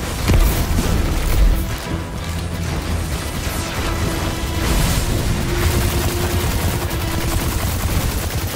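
Loud, dense Destiny 2 combat fills the scene: a booming grenade blast in the opening second, followed by sustained rapid gunfire and crashing impacts that continue throughout.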